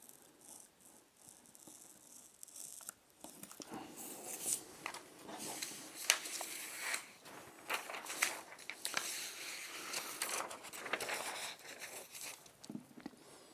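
Scissors cut through paper for a shorts sewing pattern, with quiet rustling and irregular snipping and crinkling that builds to a steady run of close, soft cuts; no voices.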